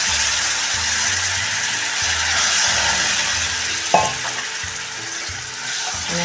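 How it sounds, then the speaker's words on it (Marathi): Sizzling tempering for a homemade goda masala amti, with a hiss of added lentil water around the middle, stirring scrapes and faint clicking under a steady frying crackle, close and alone. "आणि ह्या घोटलेल्या डाळीमधलं थोडं पाणी आपण ह्यामध्ये टाकूया, म्हणजे ही फोडणी आपली जळत नाही आहे"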